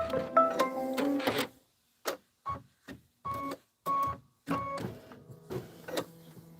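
Embroidery machine partway through a long stitch out, heard as a series of short, distinct mechanical bursts with brief silent gaps, plus an irregular whirring at the start.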